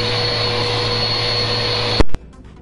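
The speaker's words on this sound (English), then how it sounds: "My brother keeps trying to vacuum me." A vacuum cleaner in the GTA video game drones loudly and steadily, then cuts off abruptly with a short clunk, leaving quieter background noise.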